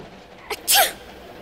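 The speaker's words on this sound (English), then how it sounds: "You wouldn't be sneezing if you weren't cold" A girl sneezes once from the cold, a short intake followed by a sharp, close sneeze over a faint steady background hiss.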